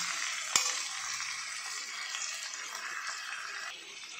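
Vegetables, potatoes and chicken frying in a pan of oil with cumin, bay leaf and red chillies give a steady, close sizzle throughout, opened by one sharp knock.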